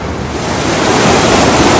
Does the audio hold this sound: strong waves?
yes